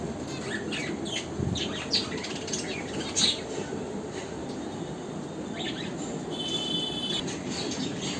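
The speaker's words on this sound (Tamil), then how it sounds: "மீனு கூடவே சில பறவைகளும் இருக்குது" Birds in a Kanchipuram pet shop that also sells fish tanks give faint, scattered chirps and a few wing flutters over a constant hissing hum.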